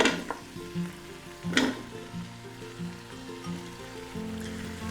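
Vegetables sizzle with bacon and butter in a pot for split pea soup, a moderate bubbling fry with a few sharp stirring scrapes, plus a faint low tonal hum running underneath.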